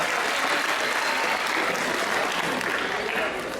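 Dense, loud applause from a crowd fills a school award ceremony in Diyarbakır marking the anniversary of the national anthem's adoption, sustained evenly throughout as a student is called up.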